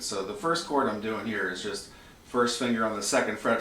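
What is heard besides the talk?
No everyday noises stand out.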